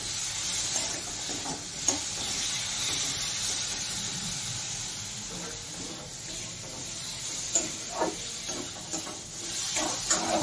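Hog plums with turmeric and salt being stirred in a pan, giving a continuous soft sizzle and hiss with intermittent scraping strokes, close by and without talk.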